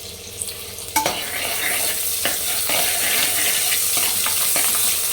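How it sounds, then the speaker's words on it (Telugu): Onions, green chilies and ginger-garlic paste frying in a pan for carrot biryani. An even, close sizzle runs throughout, marked by a few distinct knocks and scrapes from stirring. No voices. "అల్లం వెల్లుల్లి పేస్ట్ పచ్చి వాసన పోయే వరకు వేయించుకోవాలి ఫ్రెండ్స్"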